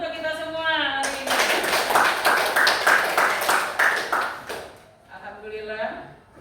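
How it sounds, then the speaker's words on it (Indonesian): A class of Indonesian eighth-grade students bursts into applause during a constitution lesson, a dense burst of clapping lasting several seconds and then fading, with a teacher talking before and after it. "tepuk tangan dulu untuk kita semua hari ini"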